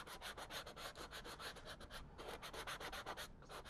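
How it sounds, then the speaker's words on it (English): Sandpaper rubs across a textured model roof in quick, steady back-and-forth strokes, a close, even rasping with a short pause midway. "you can also use sandpaper again and just give it just to braid it a bit"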